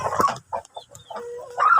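Giant backyard chickens cluck hungrily at close range. The clucks come as short separate bursts with brief gaps between them, and no voices are heard.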